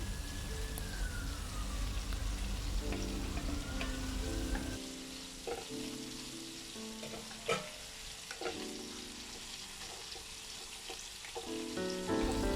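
Tomatoes sizzle and fry in a pan of chicken curry, a steady crackling hiss with occasional stirring knocks, close and fairly loud with no talking.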